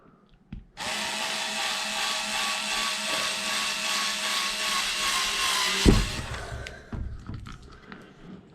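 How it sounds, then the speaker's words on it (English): Power drill boring holes into the chassis of an Arrma Kraton 8S EXB RC car, a loud steady whine running for about five seconds, then winding down with a few clatters and handling knocks. "Drill your holes."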